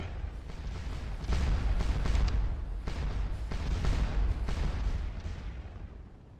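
Repeated booming artillery fire on a Napoleonic Waterloo battlefield in Scourge of War Waterloo, several deep thuds rolling out at irregular intervals over a steady low battle rumble.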